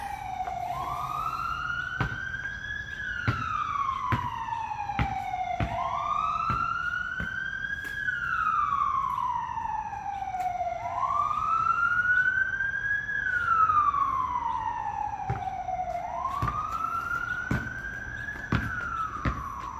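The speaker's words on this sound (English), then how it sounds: "I'm so glad that this emergency vehicle is taking so long to go by." An emergency vehicle siren wails in long rising and falling cycles, about four sweeps over twenty seconds, steady and moderately distant, with faint clicks and background noise and no talk.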